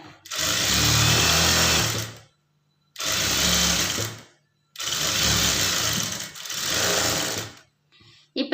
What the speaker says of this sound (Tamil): கீழே அரை இன்ச் அளவுக்கு ஒரு தையல் போட்டுக்குங்க